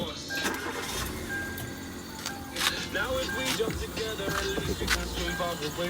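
A second-hand Hyundai i20 hatchback that had begun giving off heavy smoke cranks and starts up at close range. Clicks and whirring mechanical noises are followed by the engine catching, and someone talks over it.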